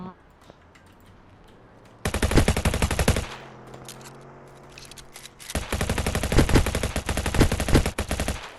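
Gunfire in a GTA-style mobile video game: two long bursts of rapid, loud automatic shots, the first lasting about a second and the second running several seconds, separated by a quieter gap.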